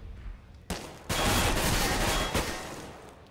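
Gunfire in a Counter-Strike: Global Offensive match on de_cache erupts after a short quiet lead-in into a dense, loud burst of rapid shots with a few sharp accents, and no voices over it.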